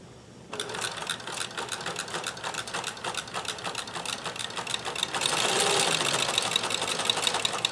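Singer monogrammer sewing machine stitching a large label, a steady rapid mechanical whir with a dense rhythmic needle clatter that grows louder toward the end, with no talking.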